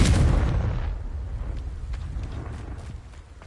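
Confringo blasting spell exploding in Hogwarts Legacy, a single loud close boom at the start that rolls into a rumbling decay and fades over a few seconds.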